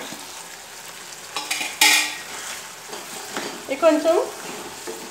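Drumstick pieces frying in a pan with turmeric and chili powder for a fish curry, a soft steady sizzle with sharp clinks of a spoon stirring against the pan, under a few words of talk.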